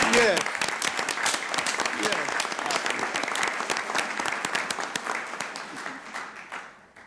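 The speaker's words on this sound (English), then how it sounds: "when you do give me another round of applause, would you give my lovely wife 2 rounds of applause?" A round of applause fills a city council chamber, dense and steady from the start, then slowly thins and fades out toward the end, with no one talking over it.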